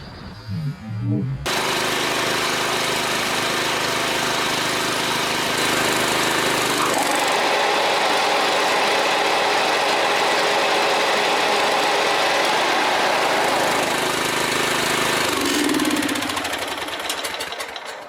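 A combination mulch-type lawnmower engine runs loud and steady for the whole stretch, a continuous droning hum with a brief shift in pitch partway through and no voices.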